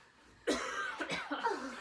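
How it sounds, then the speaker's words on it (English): A burst of coughing, several rough harsh coughs close up following a brief quiet moment. "you are coughing in my video"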